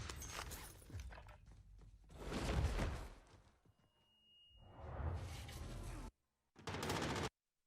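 Bursts of rapid automatic gunfire from a video game gunfight come in several loud clusters with short silent gaps between them, and a brief whoosh can be heard.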